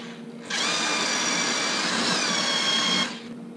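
A power drill whirs loudly at a steady pitch for about two and a half seconds while drilling through an electric scooter fender backed by a piece of wood, then cuts off.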